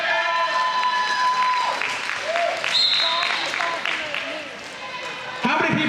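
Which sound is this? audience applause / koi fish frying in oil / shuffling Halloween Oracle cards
audience applause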